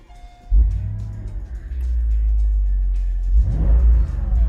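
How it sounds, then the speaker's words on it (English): A Mercedes SL55 AMG (R230) V8 engine fires up with a sharp burst, then settles into a deep, loud, rumbling idle and revs again toward the end. "the exhaust note of this V8 it's simply fantastic"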